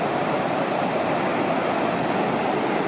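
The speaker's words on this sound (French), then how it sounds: "petite cascade" A small cascade on the Seille river in the Baume gorge gives a steady, dense rush of falling water, continuous and fairly loud with no other sounds.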